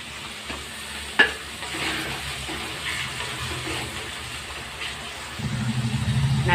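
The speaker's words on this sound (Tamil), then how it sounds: "பூண்டு வெங்காயம் இந்த அளவுக்கு வதங்கின பிறகு தக்காளி போட்டுக்கலாம்." Garlic and onions sautéing in a pan for garlic kuzhambu with dried fish, a low steady sizzle with a single sharp knock early on and a louder, rougher hiss swelling in the last second.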